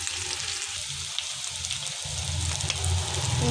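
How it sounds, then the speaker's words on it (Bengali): Potatoes and eggs frying in hot oil in a pan, a steady loud crackling sizzle with fine spattering pops that carries through the whole stretch without pause. "আমি এখন ভেজে নিচ্ছি আলু আর ডিমগুলি।"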